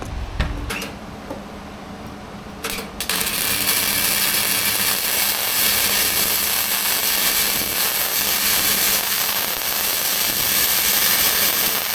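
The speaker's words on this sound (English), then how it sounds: "I'm gonna weld this guy up." Welding on an old Jeep XJ steering knuckle: after a few short knocks and a brief burst, a steady, loud, close crackling hiss runs without a break for about nine seconds, with no talking.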